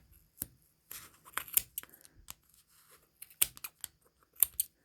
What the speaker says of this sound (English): I just don't have the hand strength to use scissors and get through all that yarn.